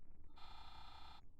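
A phone in a video game buzzes with a notification: one steady electronic tone lasting under a second, moderately loud over low background rumble.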